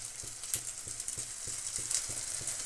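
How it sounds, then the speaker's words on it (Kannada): Wheat flour, onion and carrot patties shallow fry in hot oil in a pan, giving a steady close sizzle broken by light regular taps and clicks of a utensil, with no talking. "ನಾನು ಇದೇ ಥರ ಶಾಡೋ ಫ್ರೈ ಮಾಡ್ತಾಯಿದ್ದೀನಿ"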